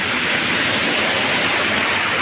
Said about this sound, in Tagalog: Ayun oh, umaapaw yung kanal doon sa taas.